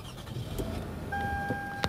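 A used car at an auction idles after being turned over, its engine a low, steady rumble at moderate distance, with a faint high whine and a brief click near the end.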